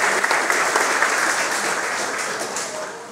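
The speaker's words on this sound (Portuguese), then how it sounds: "Levanta, salve palmas." Warm applause fills a church community gathering at a parish, a brief, dense burst of many hands clapping at once that slowly thins out over a few seconds.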